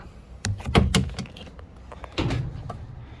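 An Audi Q7 door card is unclipped and pulled away: a quick series of sharp plastic clicks and pops with rustling scrapes, then a second burst of clunky handling noise, all close by with no talking.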